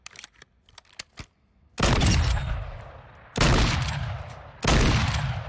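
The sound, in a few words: sniper rifle gunshots in a video game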